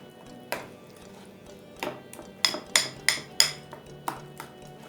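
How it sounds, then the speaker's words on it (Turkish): Lahmacun filling mixture being stirred in a bowl, a series of sharp spoon-against-bowl clinks and knocks, several in quick succession near the middle, close and fairly loud over a quiet room. "Şimdi malzememi bir güzel karıştırıyorum"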